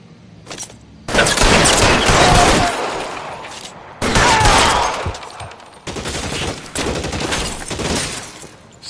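Bursts of gunfire in the video game L.A. Noire, loud fusillades and rapid machine-gun volleys in three long stretches separated by brief pauses.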